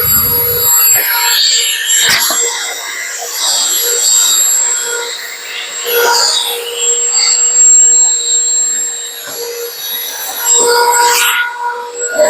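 A vacuum cleaner runs steadily, close and fairly loud, with a whining hiss, as it cleans the inside and outside of an xTool F1 filtration unit. Scraping and bumping knocks break in as the nozzle moves around.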